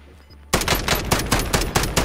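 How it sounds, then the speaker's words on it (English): A loud automatic weapon erupts in Call of Duty Warzone after a short quiet lead-in, firing a fast, steady string of about a dozen close, punchy shots. "Taking fire!"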